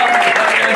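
Brief burst of dense, steady applause from a comedy show audience, loud and continuous throughout with a faint murmur of the crowd.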